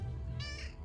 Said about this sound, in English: That's my cat, by the way.